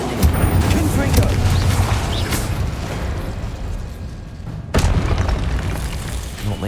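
The Confringo fire spell explodes in the Hogwarts Legacy game as a loud, rumbling booming blast that carries on throughout, with a fresh burst striking near the end.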